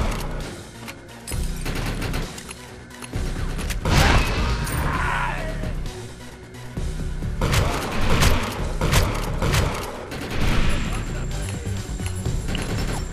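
Loud bursts of rapid gunfire and booming impacts from the video game Defiance, repeating in clusters over a dense, noisy backdrop.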